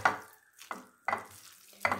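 Onion vada batter being mixed by hand in a bowl, a few distinct wet squelching, stirring bursts spaced about a second apart, close and moderately quiet with no talk.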